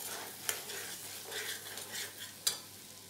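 Mixed vegetables stir-fry in a pan with cream blended in, a faint low sizzle with soft rhythmic stirring swishes and two clear clinks of a spoon against the metal.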